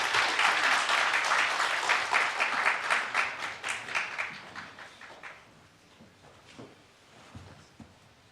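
A church congregation gives a burst of applause at a Sunday service. The clapping is dense and fairly close, then thins into scattered claps and fades after about five seconds into quiet room noise with a few taps.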